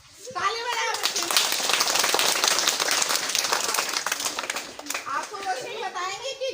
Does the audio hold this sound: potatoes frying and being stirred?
no